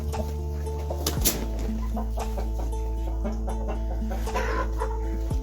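Several desi (native) chickens, hens and roosters, cluck close by over a steady low hum, with short squawks breaking through now and then.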